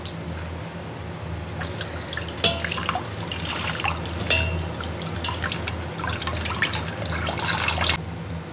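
Water dripping and trickling from homemade butter as it is washed and drained, a steady patter of drops with occasional louder splashes, close and continuous with no talking.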